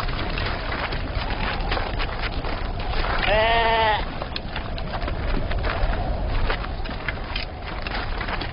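Sheep bleat in a single clear, wavering call around the middle, loud over a constant crackling, rustling background from a dramatized pastoral scene.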